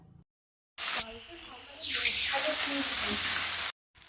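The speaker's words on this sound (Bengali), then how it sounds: "এবারে আদা রসুনের পেস্টটাকে পেঁয়াজের মধ্যে দিয়ে দিলাম" Ginger-garlic paste hits hot oil with browned onions for a chicken fried rice, bursting into a loud, steady close-up sizzle that holds for several seconds before cutting off.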